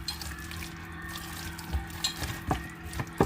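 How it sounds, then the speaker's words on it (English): Oil sizzles steadily in a pan as chicken browns, with a few sharp pops and crackles of grease standing out near the end; no one speaks. "So you can hear that grease already popping."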